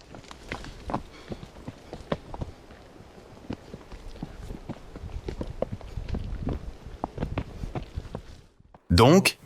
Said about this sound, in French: Une option pour se calmer à nouveau est de faire une promenade à cheval dans la forêt.